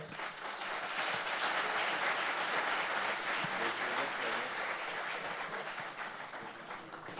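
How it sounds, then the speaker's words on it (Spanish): An audience at a hydrocarbons congress applauds the panelists, steady, dense clapping filling the room at even loudness for the whole stretch. "Un aplauso para ellos, por favor."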